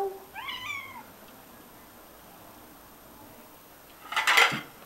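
A cat meows once near the start, a clear, moderately loud rising-falling call, followed by a quiet pause and then a brief clatter like dishes.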